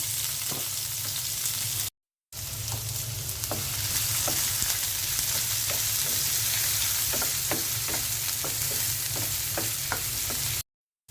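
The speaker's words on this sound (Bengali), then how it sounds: "তেলের মধ্যে পেঁয়াজ দিয়ে দিচ্ছি।" Onions fry in oil left over from frying fish, a loud steady sizzle with repeated sharp scrapes and taps of a spoon stirring, with short gaps of silence.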